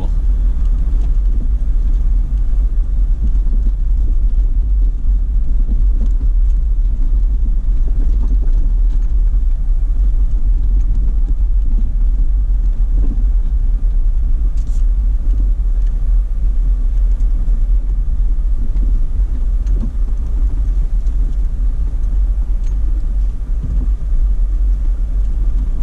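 An off-road vehicle driving a Moab trail along a cliff edge, with a loud, continuous low engine rumble and road noise heard from inside throughout, no talk.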